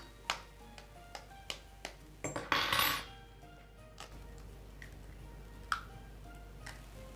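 A medium-sized egg is cracked open in a home kitchen, giving a sharp crack and brief crunchy rustle amid light ticking taps of utensils against a bowl, quiet and close.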